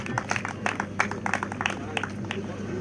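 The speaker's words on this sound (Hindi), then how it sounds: "ताली बजाने का मजा नहीं आ रहा है" An audience claps at a training camp, a thin, scattered patter of hands running throughout with a voice speaking over it.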